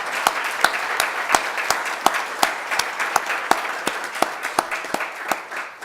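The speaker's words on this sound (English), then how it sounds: "please welcome Chintan with a warm round of applause" An audience at a farewell and felicitation event claps steadily, producing dense applause with sharp individual claps standing out at a fairly even rhythm throughout.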